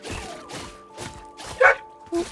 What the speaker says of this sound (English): Why are you screaming right behind me? My goodness. Crazy dogs.